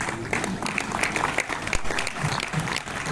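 An audience at a Hindi comedy poetry show (hasya kavi sammelan) applauds, with dense steady clapping throughout a few seconds and some crowd murmur mixed in.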